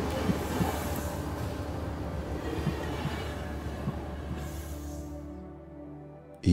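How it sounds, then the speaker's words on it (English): A train coming to a gentle stop: a steady rolling rumble with a brief airy hiss near the end, then it fades quickly into near silence. A short sharp noise closes it, and no one speaks. "With a hiss, the train now comes to a gentle stop."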